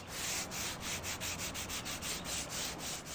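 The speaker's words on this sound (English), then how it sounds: "After gently sanding with a 150 grit sanding disc, most of the stain was completely removed." A 150 grit sanding disc is worked over a 1960s Lane Acclaim mid-century modern wooden tabletop to strip stain. It makes a steady, close rasping rub that swells and fades in quick regular strokes, with no voices.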